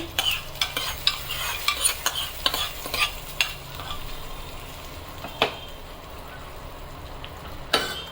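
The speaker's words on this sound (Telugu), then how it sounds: "తాలింపు ఇందులో వేసుకుందామండి." A tempering of dried red chilli pieces and curry leaves sizzles as it is stirred into groundnut tomato chutney, with a steady crackling hiss broken by several sharp spoon clicks against the pan.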